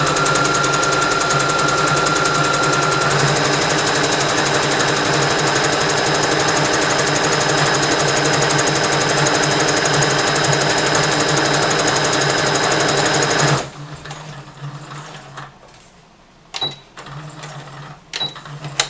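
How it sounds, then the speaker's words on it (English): Sewing machine running continuously and loudly while top stitching a romper for about thirteen seconds, then stopping abruptly, leaving quiet fabric handling and a few faint clicks. "we're going to go ahead and top stitch"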